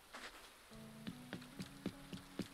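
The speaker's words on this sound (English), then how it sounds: "Oh, it's still raining." Soft rain in the Animal Crossing video game patters steadily, with light drops tapping a surface over a faint repeating game tone, quiet and without talk.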